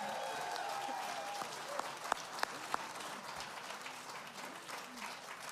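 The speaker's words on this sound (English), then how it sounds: "how about a round of applause for the reopening of the beautiful," Theater audience applauding at a folk music awards concert, a broad steady wash of clapping at moderate distance with a few sharper claps, a voice faint beneath it.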